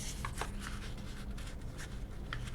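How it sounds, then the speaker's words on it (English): Origami paper folded in half again and creased, soft papery rustling and brief scraping crinkles close up, low and quiet over a faint steady background hum. "I'm going to fold this in half again."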